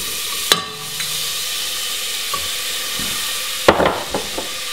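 Chopped onion dropped into hot olive oil in a pan, a steady sizzle with sharp clanks and scrapes from stirring, close and loud.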